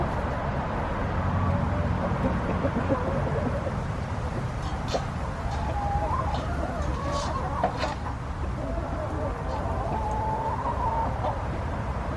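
Chickens clucking near their coop in a backyard flock, steady murmuring clucks and soft calls from several birds close by, with a bit of quiet talk mixed in under a constant outdoor hum.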